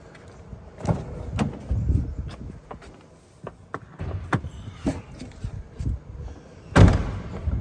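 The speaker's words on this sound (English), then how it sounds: "Let's go ahead and pop the hood and take a peek underneath." The hood of a 2015 Volkswagen Beetle Convertible with a 1.8-liter turbo being popped open, heard as a run of clicks, thumps and rustling handling noises ending in one loud, close latch-and-lift thud, with no talking.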